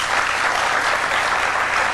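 Studio audience applause on a 1993 late-night talk show, a dense, even wash of many hands clapping continuously, loud and close, with no voices over it.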